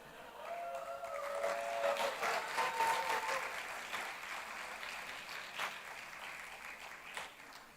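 Applause from the audience at the Y20 youth summit in Varanasi, a steady broadband clatter of many hands that swells, peaks and holds at moderate level for several seconds, with faint voices in the background.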